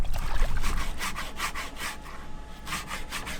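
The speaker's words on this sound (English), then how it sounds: "the prop shaft and prop have a little bit more growth that I'm gonna scrape off with the plastic scraper" A plastic scraper rasps growth off a sailboat's propeller shaft underwater in the Bahamas, making repeated rhythmic scraping strokes that are close and steady with a watery wash behind them.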